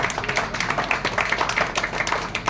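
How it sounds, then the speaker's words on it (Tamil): Clapping from guests at a wedding greeting event, a short stretch of moderately loud, busy applause from many hands with a continuous patter. "இந்த கைதட்டு பத்தாது உற்சாகமான கைதட்டு"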